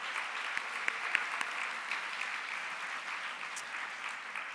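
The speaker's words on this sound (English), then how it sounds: "So let's give a round of applause to Miami-Dade College." An audience at a book fair event gives a steady round of applause, a dense even patter of clapping with a few sharper claps standing out, moderately distant and sustained throughout.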